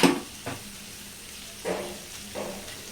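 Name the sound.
stirring cauliflower fry sizzling in pan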